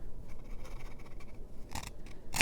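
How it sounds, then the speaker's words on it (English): Scissors trim paper overhang on a junk journal page, with faint rustling handling followed by two short crisp snips near the end. "I'm just gonna trim it"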